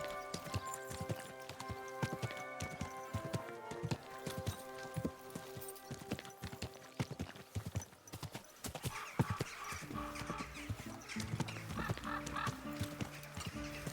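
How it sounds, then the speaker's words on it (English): Horse hooves clip-clop steadily at a walking pace in the video game Kingdom Come: Deliverance II, a fairly close rhythmic clatter over soft ambient music and background noise. "Easy, good horse."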